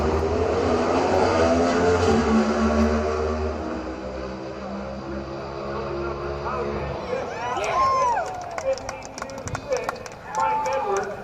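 NHRA Pro Stock drag racing cars roar off the line at Sonoma in 2013. A loud, droning engine blast fades over several seconds as an announcer talks throughout and crowd noise follows.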